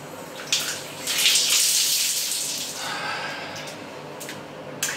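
Shower water runs in a marina washroom, a hissing broadband spray that swells in the first seconds then settles into a steadier rush, with faint breathy noises.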